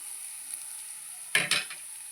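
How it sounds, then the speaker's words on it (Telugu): Chopped tomatoes drop into a pan of fried onions and set off a sudden hiss of sizzling. Two quick bursts of stirring follow, and a steady quiet frying hiss runs underneath. "ఇప్పుడు టమాటా వేసేసుకుందాము."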